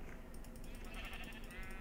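A sheep bleats once, a faint, wavering cry heard outdoors over low background noise.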